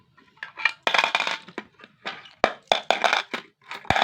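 Coins dropped into a savings container, a quick series of sharp metallic clinks and rattles in irregular bursts, close and fairly loud.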